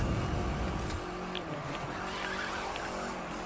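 Rally car in The Crew 2 skidding across tarmac and dirt in a rallycross race at a ski jump, loud engine and tyre scrub at the start that settles into a steadier hum with scattered gritty bursts.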